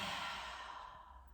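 A deep, breathy exhale through the mouth during a guided meditation breathing exercise, a single long release heard up close that gradually fades over about a second and a half, with no other sound.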